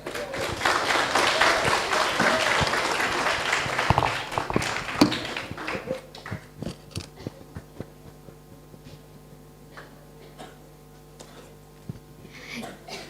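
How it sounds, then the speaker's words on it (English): Audience applause at a talk on travel, culture and mental health: dense clapping fills the first five seconds, then fades into scattered claps, footfalls and a low hum. "please give applause to Mr. Dino and Thuba as a moderator."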